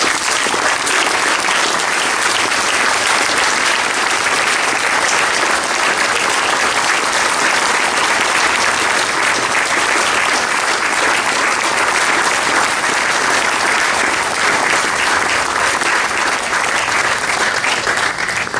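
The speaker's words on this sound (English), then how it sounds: "Would you come out and take another round of applause, please?" Audience applause after a municipal community band concert, a dense, steady wash of clapping that fills the whole stretch without letting up, with no talk over it.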